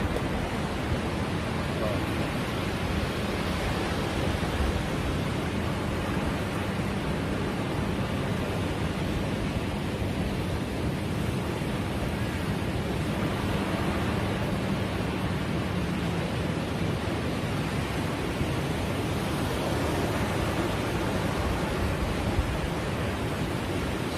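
Steady broadband wash of ocean surf at high tide close to the shore on a fishing trip, continuous and fairly loud with wind buffeting the microphone and no distinct breaks between waves.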